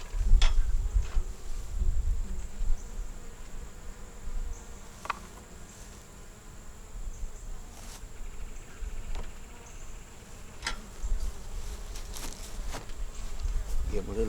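Honeybees in a three-frame nuc with a new queen and eggs, a soft steady buzzing close by, broken by a few brief clicks and handling knocks and some low background rumble.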